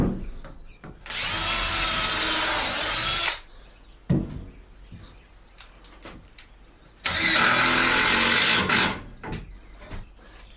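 Power drill boring holes through clamped wood boards for a space-saving woodworking table, two loud sustained bursts of whining drilling separated by quieter clicks and handling noise.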